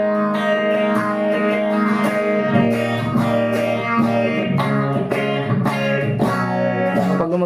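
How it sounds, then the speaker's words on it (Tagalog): Electric guitar run through a phaser pedal, sustained chords swirling with a steady sweeping modulation, loud and continuous with no talking. "Ito yung tunog ng pacer."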